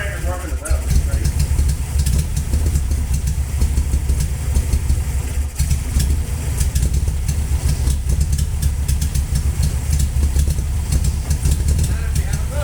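A VW Beetle engine running rough at idle, a loud, steady low rumble with rapid uneven chatter throughout, close by.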